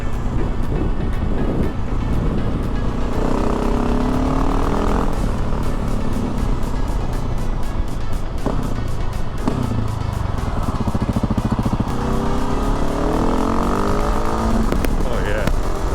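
A KTM 701 motorcycle on engine map 2 rumbles steadily under the rider, with pitch rising and falling as the revs change, mixed with wind rush and voices talking over it.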